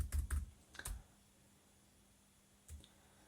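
Quiet clicks of keys on a freshly replaced MacBook Air 11-inch keyboard (A1370): a quick burst of several close presses, a pause, and one more soft tap, with no talking.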